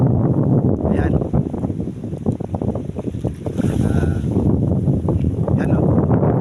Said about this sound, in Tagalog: Kasi ayan, lumakas ang hangin. Ayan, lumaki ang mga alon.